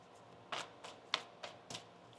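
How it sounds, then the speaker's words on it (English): A handful of crisp tarot card riffles and snaps come in quick, separate bursts, close up and fairly quiet, with no speech. "One more shuffle here."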